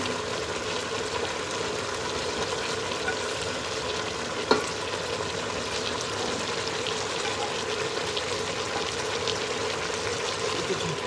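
Pieces of katla fish fry in hot oil in a pan, giving a steady, close sizzle that crackles continuously with one brief sharp pop partway through.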